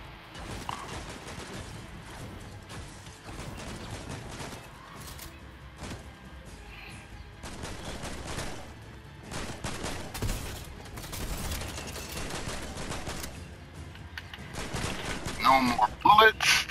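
Gunfire in the Fortnite video game, with rapid bursts and scattered shots of varying loudness, busy and dense throughout, growing louder and more chaotic toward the end.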